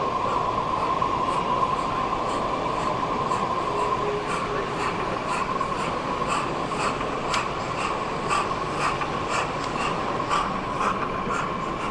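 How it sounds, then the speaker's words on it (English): A model railway locomotive runs on a layout at a model railway show, giving a steady continuous rolling rumble. A faint high tone and rhythmic clicks run throughout. "Just catch the loco movement."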